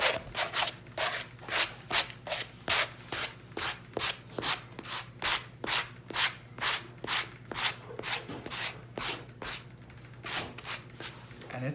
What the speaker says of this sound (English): Now I'm just gonna take my sanding block, just kind of release some of these